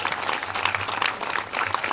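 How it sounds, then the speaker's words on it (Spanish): Audience applause for salami producers at a festival, a dense wash of clapping from a crowd, steady and moderately loud, with a low hum underneath. "Así que un aplauso"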